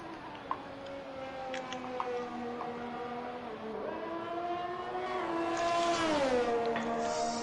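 A Ferrari Formula 1 car in the F1 2021 video game at the Italian Grand Prix, its engine a steady high-pitched whine that climbs and drops through gear changes on a lap, heard continuously and fairly close.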